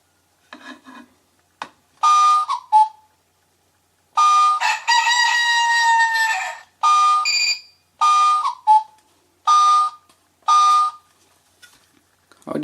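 An alarm clock plays a rooster crowing sound in repeated loud bursts. Short electronic crows and beeps alternate with brief pauses, close and clear with no talk.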